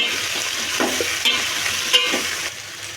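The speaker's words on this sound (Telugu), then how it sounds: "ఇప్పుడు బాగా కలుపుకోండి" Chopped tomatoes and vegetables are stirred in a hot pan, with close scraping strokes over a constant sizzle of frying.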